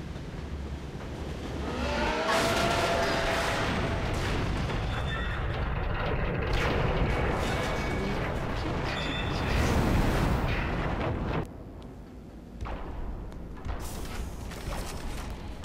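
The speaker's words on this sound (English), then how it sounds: "let's let's try with the cannon thingy again" Cannon fire in the video game Singularity, aboard a train: loud, sustained roaring blasts with heavy low rumble and crackling noise, dropping abruptly near the end into quieter rumbling, with no talk.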